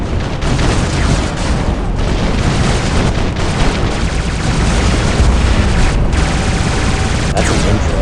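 Hussar shotguns fire in the mech combat game War Robots as a dense, continuous barrage of loud booming blasts lasting the whole stretch, with no speech over it.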